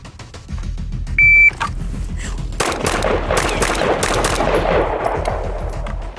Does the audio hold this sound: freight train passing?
no